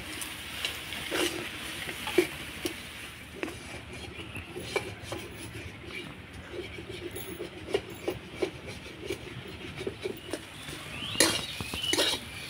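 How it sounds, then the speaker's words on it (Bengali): Spices and potato stir-fried in a pan, with repeated scraping and clinking of a spatula against metal over a low background sizzle, steady and close. "এবার মশলাগুলো আমি ভালো করে আলুর সঙ্গে কষিয়ে নেব"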